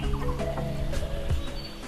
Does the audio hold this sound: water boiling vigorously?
no